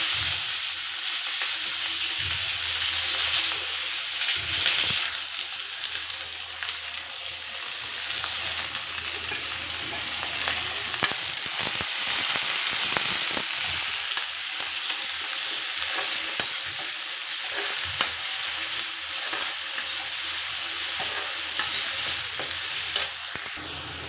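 Chopped onions sizzle and fry with cumin seeds in a hot pan, a loud continuous hiss that runs throughout, broken by scraping and clinking stirring strokes, especially in the second half, with no voices.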